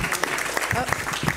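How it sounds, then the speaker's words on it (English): Attendees at an outdoor lighting workshop applaud the evening's speakers, a brief patter of claps from a small crowd while a voice carries over the top. "Can we have a round of applause for our speakers tonight?"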